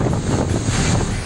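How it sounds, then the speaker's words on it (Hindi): Cyclone Nisarga making landfall near Mumbai, with strong gusting wind buffeting the microphone over a broad roar of churning sea waves, loud and continuous through a brief moment. "तूफान के आते ही समंदर में शोर के साथ लहरें उठने लगी।"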